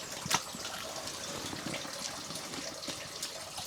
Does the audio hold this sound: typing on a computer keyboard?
no